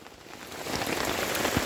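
Steady rain falls on a simple shelter at a mountain camp on Gunung Artapela near Pangalengan, a dense broadband patter that builds slightly louder over the short stretch, with occasional heavier drops and no speech.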